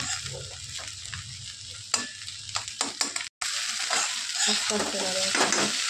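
Egg chicken Hakka chowmein sizzles in a pan as it is stirred, a continuous loud frying hiss with quick scraping strokes of the utensil, close up, cut by one brief drop to silence, with no talking.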